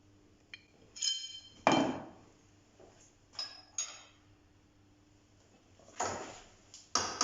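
A hammer strikes a bent jaw of an old King Dick number 10 spanner held in a vise, several sharp metallic taps spaced irregularly, close and fairly quiet.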